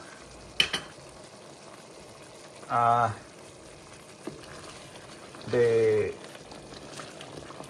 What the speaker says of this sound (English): See, I let it boil for like 2-3 minutes.